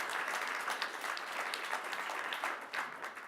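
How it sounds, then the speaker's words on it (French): An audience at a morning round-table event applauds the speakers, a steady dense wash of clapping lasting throughout with no pauses, moderately loud and evenly sustained. "Je pense qu'on peut applaudir nos intervenants pour cette table ronde."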